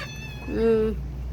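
A cat meows once, a drawn-out, rising-and-falling mew up close, with faint household noise underneath.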